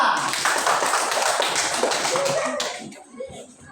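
Students in a classroom clap together in a dense burst of hand claps that tapers off toward the end, with faint voices and shuffling underneath.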